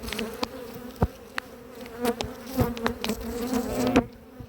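Honeybees buzz steadily around an open hive, a dense close drone broken by scattered sharp clicks and knocks from handling the frames.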